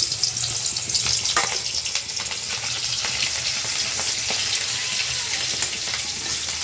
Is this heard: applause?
no